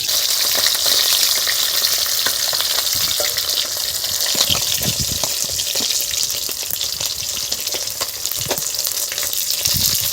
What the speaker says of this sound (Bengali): মাছগুলোকে আমার ভাজা হয়ে গেছে